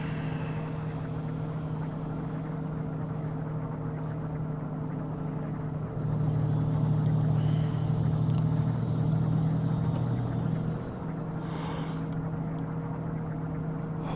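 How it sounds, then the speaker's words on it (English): A Peterbilt 357 heavy hauler's engine brake in American Truck Simulator, a steady low droning engine that rises into a louder, rougher rumble for several seconds, then eases back to the cruising hum. "The engine brake doing its job, keeping us legal."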